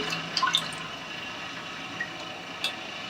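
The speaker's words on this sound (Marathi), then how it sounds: "दोन वाट्या पाणी घालते तुरीची डाळ शिजण्यासाठी" Water poured onto toor dal in a pressure cooker makes a soft, steady trickle, with a few faint drips and splashes near the start and end.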